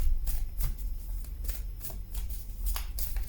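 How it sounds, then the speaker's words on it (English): Close-up tarot cards being shuffled, quick papery riffles and slides repeating in short bursts against a quiet background. "Say your name as I'm shuffling the cards"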